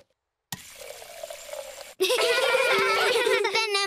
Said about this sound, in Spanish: Papi, ¿puedes poner un poco de agua en nuestro cubo, por favor?